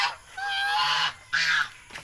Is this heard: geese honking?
yes